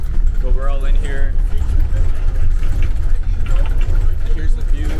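Loud engine roar fills the cabin of a shuttle bus in Glacier National Park, a steady low rumble heard from inside with people talking over it.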